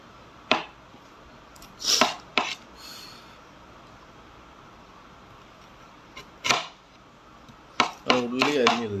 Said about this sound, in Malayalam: ഉള്ളി അരിഞ്ഞ് കണ്ണ് നീറിക്കൊണ്ടിരിക്കുന്നു